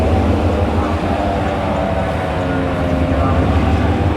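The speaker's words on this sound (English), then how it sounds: "This locomotive will take us across the border into Laos shortly." Steady low rumble of a cross-border shuttle train locomotive running between Thailand and Laos, a constant droning engine and rolling hum heard close by without pause.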